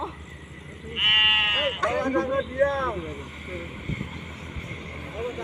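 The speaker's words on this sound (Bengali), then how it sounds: "আমার কুরবানির ছাগল" One loud, close bleat from a castrated male goat bought for Eid sacrifice rises and wavers for about two seconds, followed by a short human voice and quieter background noise.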